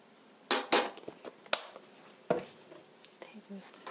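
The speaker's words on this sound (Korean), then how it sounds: "팬을 얹으시고요" A frying pan set on a stove over low heat, with a couple of sharp metallic clanks and knocks followed by softer handling clatter, all up close and fairly quiet.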